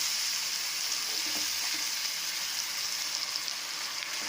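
Steady, dense sizzling of fried vegetables in a hot pan as tomato puree goes in, loud and continuous from start to end with no talking, a faint stirring scrape now and then.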